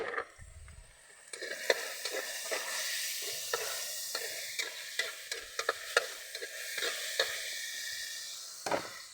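Chili and vegetables fry in a little oil in a pan, a soft steady sizzle broken by repeated scraping and stirring clicks, close and fairly quiet with no talk.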